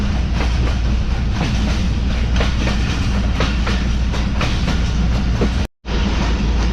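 The Mohen Jo Daro passenger train rolls along the rails in Sindh, giving a loud, steady rumble with rhythmic clickety-clack wheel beats from close by, then cutting out abruptly near the end.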